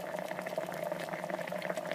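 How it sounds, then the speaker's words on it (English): A Turkish stinger immersion kettle keeps water at a steady rolling boil, with a constant bubbling, gurgling churn heard close and fairly quiet throughout. "it'll just sit boiling like that for ages"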